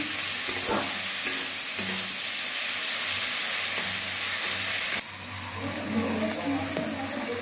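Onion, ginger and garlic fry for green moong dal tadka, a steady sizzle and hiss running throughout with occasional stirring scrapes; the sizzle drops slightly and changes texture partway, as if something is added to the pan.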